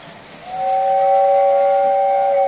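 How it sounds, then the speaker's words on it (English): A toy train's steam whistle gives one loud, sustained, hissing two-tone blast up close after a brief quiet start, heard alone with no voices. "Hit the whistle, Jen."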